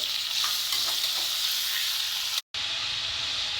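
Peppercorns and onion frying in a pan, a steady close sizzle with faint stirring scrapes and a brief cut to silence near the end.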